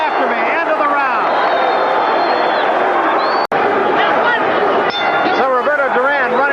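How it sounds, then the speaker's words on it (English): A boxing crowd roars and cheers for Roberto Duran in the 13th round of his fight against Wilfred Benitez, a loud, sustained wash of voices with a ringside commentator talking over it. "The crowd is on its feet in support of him."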